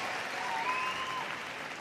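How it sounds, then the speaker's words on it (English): Steady, moderately distant wash of crowd applause and cheering at Crufts for flyball dog teams, continuous and even without distinct claps. "You can cheer louder than that, ladies and gentlemen."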